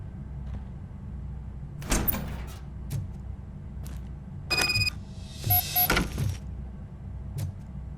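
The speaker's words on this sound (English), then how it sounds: "Now let me get that door open for you." A door opening in Robocop: Rogue City, heard as a few separate mechanical clunks and a sliding whoosh spread out over several seconds against a quiet hum.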